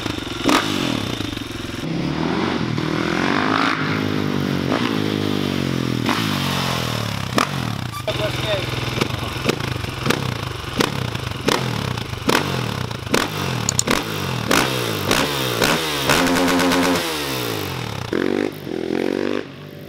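A supermoto motorcycle fitted with a new exhaust revs repeatedly, loud and close, with rising and falling engine pitch, sharp throttle blips and some clattering and scraping noises between bursts.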